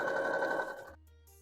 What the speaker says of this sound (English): As I start, I want to make sure I do a back stitch and then keep going.